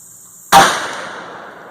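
A single sharp, loud gunshot from a 450 Bushmaster rifle cracks out after a brief quiet moment, then trails off in a long fading echo.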